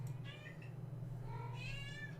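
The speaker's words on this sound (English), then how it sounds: "my cat is deciding she wants to be part of everything" A house cat meows a few times, drawn-out and wavering, fairly close but quiet over a steady low hum, with no talking.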